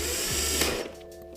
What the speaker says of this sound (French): je vais donc devoir dévisser cette étagère pour pouvoir la fixer.